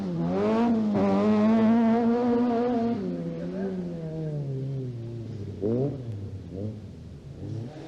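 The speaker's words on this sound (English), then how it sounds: "Irishmen Austin McHale and Brian Murphy take the 2-litre Cosworth through the tarmac stage." A 2-litre Cosworth rally car on a tarmac stage of a 1989 Welsh rally, its engine revving hard and close then dropping pitch through gear changes and downshifts, with brief blips toward the end.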